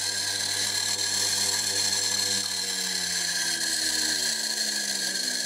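A washing machine motor with noisy bearings spins at high speed on a variable-frequency drive, giving a loud, continuous high-pitched whine and grinding hiss. Its layered tones slowly slide in pitch as the speed shifts.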